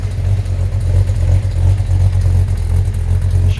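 A 1973 Road Runner's 340 V8 with a new front-to-back exhaust and machine-gun tips, revving loud and close in a deep, steady throaty rumble with slight rises and falls, no voices over it.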